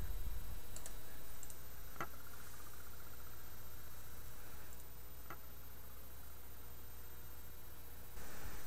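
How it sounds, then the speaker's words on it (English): A relay inside the controller of a Hayward Swimpure salt chlorine generator clicks sharply twice, a few seconds apart, against a steady electrical hiss during the repair. "there's a relay clicking and the power LED turns on also"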